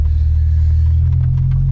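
BMW E90 with a built engine and swapped 8HP70 automatic gearbox, giving a loud, steady low engine rumble heard up close and continuously throughout.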